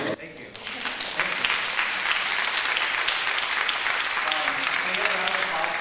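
Enthusiastic audience applause for alumni speakers at a high school PTA event, loud, continuous clapping filling the room after a brief quiet start.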